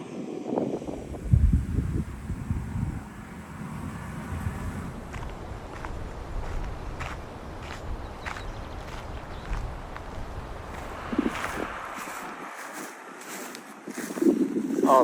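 Wind on a Shetland Islands hillside: a steady buffeting rush with heavy low gusts battering the microphone, loudest near the start, and faint scuffs in between.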